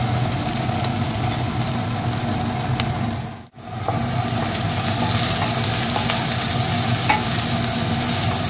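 Onion and garlic frying in a pan with oil, a continuous crackling sizzle with stirring scrapes, briefly cut out midway before resuming at steady loudness, no talk.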